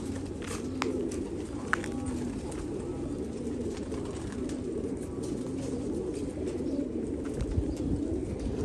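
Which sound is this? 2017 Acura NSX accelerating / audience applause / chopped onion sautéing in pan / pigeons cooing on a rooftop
pigeons cooing on a rooftop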